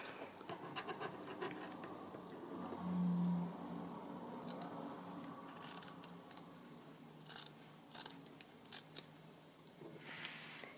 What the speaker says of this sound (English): So I'm just going to cut the corners.